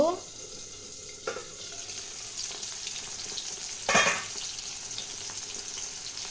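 Katla fish frying in a pan gives a faint, steady sizzle throughout, broken by a few brief louder spatters or clinks.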